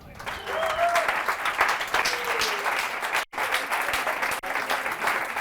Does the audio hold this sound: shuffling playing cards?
no